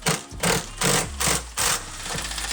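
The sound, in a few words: ratchets drawing in a Mustang Boss 302 transmission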